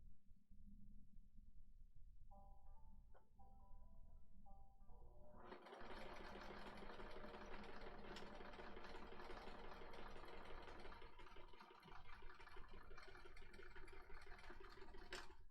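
A sewing machine stitches a baby quilt in a fast, steady whir that runs on and on at close range. Faint voices can be heard in the room before it starts.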